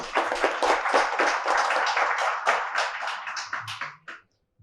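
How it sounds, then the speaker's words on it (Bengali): Loud applause from an audience honouring July uprising fighters, many hands clapping steadily for about four seconds before stopping abruptly. "সেই যোদ্ধাদের জন্য একটি জোরে করতালি কামনা করছি।"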